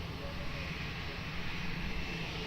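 A fixed-wing airliner rolls for takeoff at Lisbon Airport, its engines a steady, broad roar that fills the scene with little change, while radio voices are faintly mixed in.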